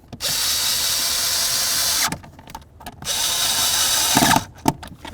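A power drill whines steadily in two sustained runs, pausing between them, as it drives mounting screws into the parking brake ratchet under the dash of a 1994-2004 Chevy S-10. Close, loud and without talk, ending in a few clicks and knocks.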